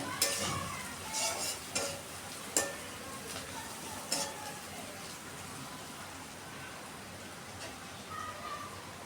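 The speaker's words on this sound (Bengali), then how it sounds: "পেঁয়াজটাকে হালকা ভেজে নিতে হবে।" Onion fries lightly in a pan, a soft continuous sizzle broken by several sharp scrapes and clinks of stirring, close and fairly quiet.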